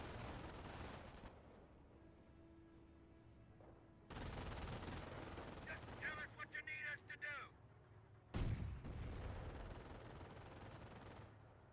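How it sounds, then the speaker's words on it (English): MG42 machine gun fire during a tournament match in a war video game, heard as loud bursts and rattling volleys over a dense, continuous battle din, with sharp blasts near the end. "MG42"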